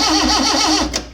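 A Morris Minor engine cranks without catching, the starter churning in a steady rapid rhythm close up and loud for about a second before it cuts off.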